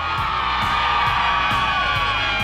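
A big crowd at a men's lacrosse game between Fisher and Nazareth on grass at Golden Flyers Stadium, cheering and whooping steadily on a windy afternoon, a loud continuous roar with scattered shouts.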